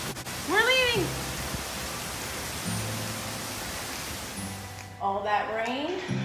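Steady rain falling outdoors, a broad even hiss throughout, with children's voices and squeals over it.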